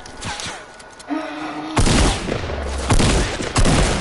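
Gunfire in the Fortnite video game: a few faint distant shots, then bursts of loud, rapid fusillade fire that stay close and sustained through the rest of the moment, with no talking.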